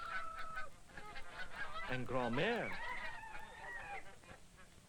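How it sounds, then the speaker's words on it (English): Geese on a farm in Normandy honk loudly and repeatedly in a flock, with rising, overlapping calls peaking midway, while someone narrates briefly over the start. "his flocks of geese and chickens"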